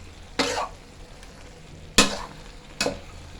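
Chinese kale hits a little hot oil in three sharp, loud sizzling bursts, each fading quickly, the gaps filled with quieter background noise.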